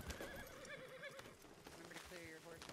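A horse whinnies loudly in a ranch roleplay video game, with clip-clop hooves and game sounds underneath while people talk over it.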